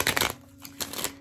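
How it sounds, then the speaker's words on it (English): Tarot cards are shuffled in two quick close riffle bursts with a short pause between them, sharp and clear over a faint steady hum. "I've got two more shuffles here."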